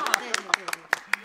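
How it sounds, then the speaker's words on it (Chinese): A few family members clap at home for Susan's Peking opera singing, six or so sharp, close, separate claps in an uneven rhythm, brief and light. "那个咱们全家为苏珊这种学习精神鼓掌"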